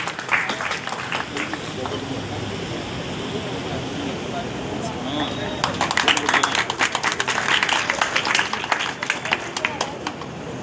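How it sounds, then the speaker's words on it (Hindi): A school award ceremony audience at Good Shepherd Public School in Ratangarh welcomes a student with applause, sparse claps first, then a dense round of clapping that swells and holds. An announcer speaks over the clapping. "जोरदार तालियों के साथ अभिनंदन करें रूही का लाटा का"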